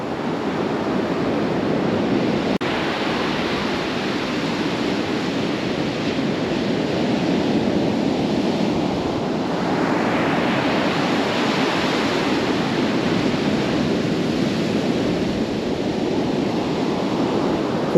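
Atlantic Ocean surf on an Outer Banks beach rolls in a steady broadband wash, with waves swelling and breaking in slow surges under some wind buffeting on the microphone.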